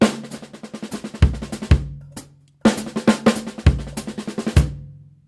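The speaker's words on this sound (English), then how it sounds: "Listen to Melody 1 again, now using the bass drum fill-in concept." A drum pattern of quick, evenly spaced hits with heavy bass drum thumps marking accents, played in two phrases separated by a brief pause.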